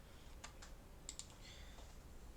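Typing on a computer keyboard: a few faint, sparse key clicks in quick little clusters against a quiet background, no voices.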